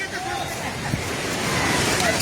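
Floodwater surging over stones in Nepal, a loud, steady roar that swells slightly toward the end, with people's voices in the background.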